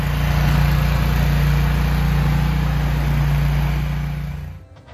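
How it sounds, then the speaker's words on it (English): A snow blower running outdoors while clearing snow: a steady, loud, humming engine drone with a low rumble that holds evenly, then winds down and cuts off near the end. "already out there with the snow blower, snow's flying"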